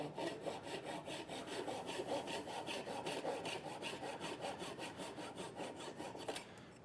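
A Japanese flush-trimming hand saw cuts a decorative wooden box joint in quick, even strokes, about four rasping pulls per second, close and steady, ending abruptly after roughly six seconds.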